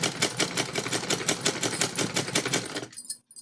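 A sewing machine runs steadily, stitching alongside a cord on a blouse with a rapid, even mechanical chatter that stops abruptly near the end, leaving brief quiet.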